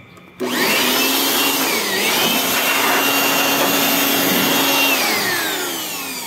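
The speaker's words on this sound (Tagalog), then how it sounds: "Mahalaga rin na mayroon kayong ganitong blower pagka may sasakyan kayo" A loud, steady whooshing air blower roars close by, drying water off an e-bike, holding a constant pitch with a brief dip partway through before tapering slightly at the end.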